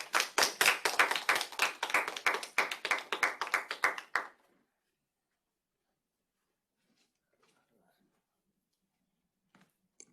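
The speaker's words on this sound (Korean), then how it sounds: "큰 박수로 맞으시기 바랍니다" An audience at a university seminar on budget theory claims loudly to welcome a professor to the podium. The applause lasts about four seconds, then stops abruptly and leaves near silence with a few faint taps.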